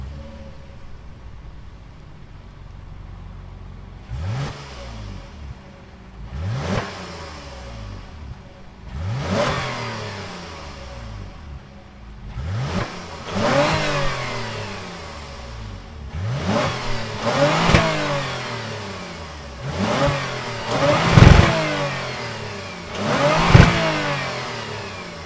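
A 2022 Toyota Avalon 3.5 liter V6 starts up and idles, then gives a series of sharp revs that rise and fall, growing louder and more frequent toward the end, heard close and alone.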